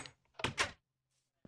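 A door opens in a video game puzzle map set in an overgrown facility, giving a short mechanical sliding thunk with a quick double burst, then silence.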